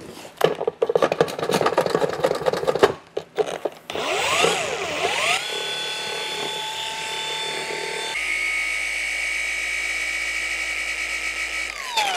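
Lake Country pad washer spinning a polishing pad, first with scattered sloshing and rattling, then a motor whirring up in pitch to a steady high spin, loud and close, with no talk.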